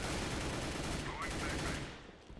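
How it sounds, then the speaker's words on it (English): Gunfire in the video game CS:GO comes as a loud, continuous burst of overlapping shots filling the whole stretch, then thins slightly toward the end. "Takes a shot even though there's no one there."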